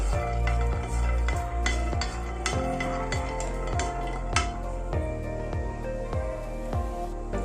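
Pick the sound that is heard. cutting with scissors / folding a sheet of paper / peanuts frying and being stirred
peanuts frying and being stirred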